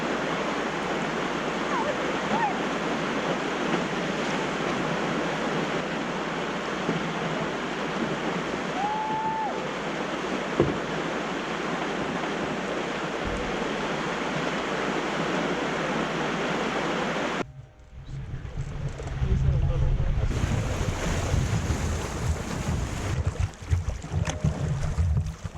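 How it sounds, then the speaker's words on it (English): Broad, steady roar of rushing water from a waterfall on the Bowron Lake canoe circuit in the Canadian wilderness, loud and continuous, shifting to a closer, rougher wash near the end. "Well, we made it to the waterfall"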